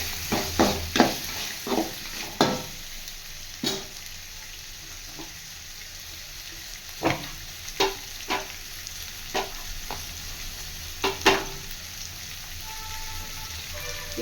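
Tomato, onion and fresh pigeon peas fry in a pan with a steady low sizzle, broken by repeated scraping and clattering stirs that come in uneven bursts, close and fairly loud, with no voices.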